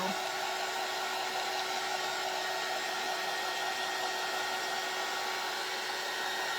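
Hair dryer blowing steadily to dry matte Mod Podge on a Dollar Tree craft bunny, a constant close whooshing hum with no pauses throughout.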